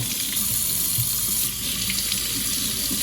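A newly installed Delta Varos kitchen faucet runs steadily with a constant, hissing stream of warm water splashing into a sink, close and unbroken throughout.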